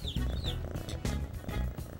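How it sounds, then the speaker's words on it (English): A big cat purring, a deep rumbling throb in slow repeated pulses, close and fairly loud, with faint chirping bird calls above it. "Listen, she's purring."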